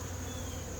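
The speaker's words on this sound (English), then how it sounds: "Beautiful honeybees, Carniola honeybees in the sun." Carniolan honeybees swarming around an open horizontal hive during a late-season inspection in the sun, a dense, steady buzz filling the brief moment, close and continuous.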